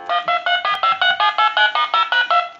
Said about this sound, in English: So this will give a dial tone and redial.